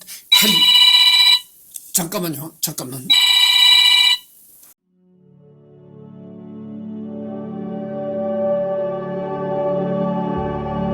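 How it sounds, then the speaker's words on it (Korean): An incoming call makes a telephone ring loudly in bright electronic bursts with brief gaps, then stops; a voice speaks briefly, and a held musical tone slowly swells afterward. "녹화를 한 중에 전화가 와가지고 전화 받으려고 잠깐 중단을 했었습니다"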